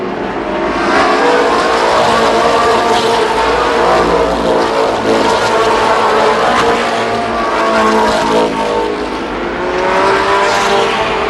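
Race cars roar continuously around the Columbus Motor Speedway oval during the 1993 Memorial Day Classic, engines loud and close with shifting revs as the pack passes, no voices heard.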